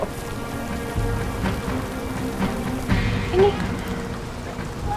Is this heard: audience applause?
no